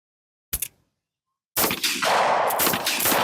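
Gunfire at an outdoor shooting range during a range-based shooting game, one sharp shot followed after a pause by a loud sustained burst of rapid fire that rolls on to the end.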